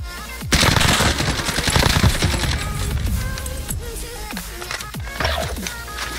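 Rapid automatic gunfire from several teams in the Warzone video game, a dense loud stream of overlapping shots and bursts that continues throughout with no talk.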